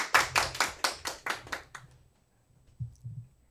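Brief, sparse clapping from a small seminar audience before a lecture begins, about eight distinct claps fading out within two seconds, followed by a couple of faint low thumps.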